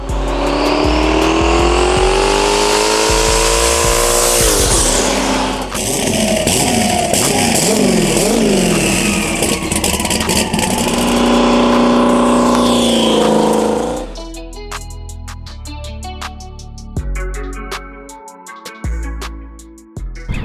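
A 1,200 horsepower turbo Trans Am with a 388 cubic inch LS engine on Holley EFI and 91mm turbo, loud sustained engine roar rising and falling through revs with tire squeal, then rougher rumbling and popping at the end.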